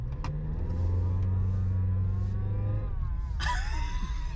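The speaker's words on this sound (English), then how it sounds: "It makes a really odd whirring noise." Car engine running with a persistent odd whirring tone and a low drone, followed by a sudden higher whine as it revs.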